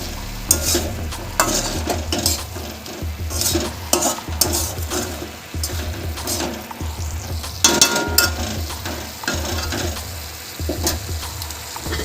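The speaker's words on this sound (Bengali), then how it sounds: "সবটা ভালো করে নাড়িয়ে দিচ্ছি।" Cauliflower stalks fry and sizzle in mustard oil while a utensil stirs steadily, scraping and clinking against the pan in a repeated rhythm, close and fairly loud.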